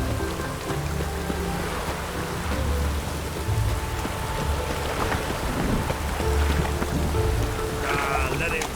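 Steady rain falls in the video game Witcher 3, a continuous hiss of drops with low rumbling beneath and muffled voices in the mix.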